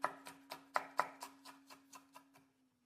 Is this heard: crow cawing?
no